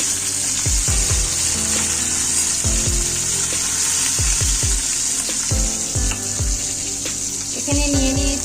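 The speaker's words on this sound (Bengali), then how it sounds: "এখন মাছগুলো ভেজে নিচ্ছি।" Koi fish frying in hot oil in a kadai, a loud steady sizzle and crackle, with repeated low thuds and clinks of a utensil throughout.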